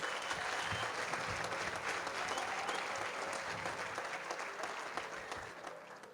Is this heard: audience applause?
yes